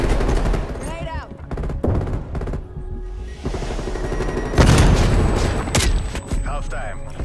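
Gunfire and a grenade blast from Black Ops Cold War: loud bursts of shots, several sharp bangs and a big boom near the middle, with game voices over the top.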